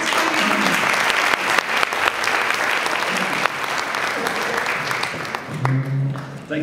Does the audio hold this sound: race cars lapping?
no